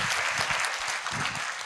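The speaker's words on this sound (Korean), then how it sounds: "우리 선생님 어린이집 개원하시기를 박수 한번 주십시오" Applause from a lecture audience at a talk show by lecturer Kim Chang-ok, a steady dense clapping that fills the short moment without voices.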